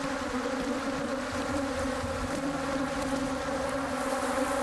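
A swarm of Africanized killer bees chases fleeing people after an attack, making a dense, steady, loud buzzing drone that stays constant throughout with no voices.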